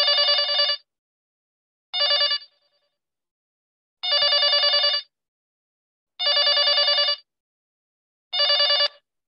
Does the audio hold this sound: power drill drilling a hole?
no